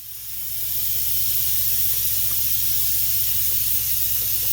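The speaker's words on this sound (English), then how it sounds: "Then he'll spray that with foam." Spray foam insulation hisses steadily from a spray gun onto a shop ceiling, a loud continuous spray that rises in the first second and then holds even over a low mechanical hum.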